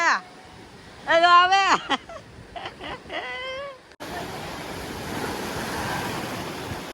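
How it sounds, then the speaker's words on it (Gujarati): Water waves wash in with a steady, broad rushing that follows a few seconds of loud, excited voices and then carries on alone, moderately loud and close. "પાણીની લહેર આવી ગઈ"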